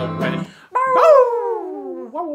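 In a live children's sing-along about farm animals, a singer imitates a dog howling: a short sung phrase, then a long sliding howl that falls away, ending with a brief rise.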